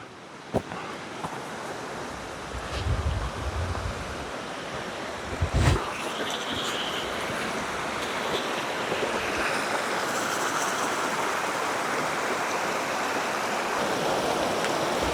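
Creek water flowing through Monrovian Canyon near Monroe, Utah after flooding, a steady loud rush mixed with wind noise on the microphone and a couple of thumps early on, with no talking.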